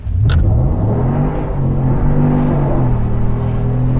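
A tuned 2019 Ram 1500 pickup launches from a stop light with traction control off, its engine roaring loud and close as the rising drone climbs steadily through the run.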